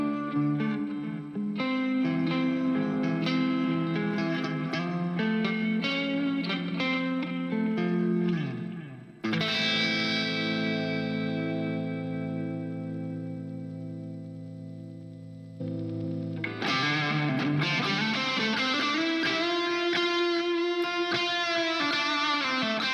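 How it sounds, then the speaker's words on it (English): An electric guitar runs through reverb, delay and drive from an HX Stomp, playing ringing chords and picked phrases with echoing tails, a sustained swelling chord in the middle, then denser driven strumming, with no talk. "we're using the reverb and a delay from the HX Stomp here, and we'll kind of kick in some drive"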